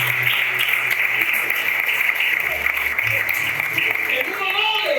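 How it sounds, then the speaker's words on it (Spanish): A church congregation at a Sunday service applauding, sustained clapping mixed with a voice talking over it and a steady tonal hum beneath. "Aplaude y dale gloria a Dios."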